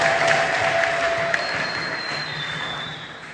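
A church congregation breaks into sustained applause, a steady wash of clapping that holds level and then slowly fades, with no voices over it.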